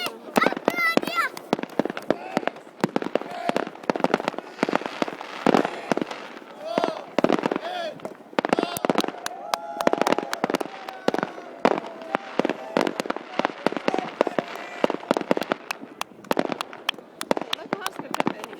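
New Year fireworks bursting outdoors in Vaasa, Finland: a dense, continuous barrage of cracks and booms with crackling, heard at moderate distance while people, including children, talk and cheer nearby.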